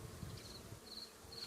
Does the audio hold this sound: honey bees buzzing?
yes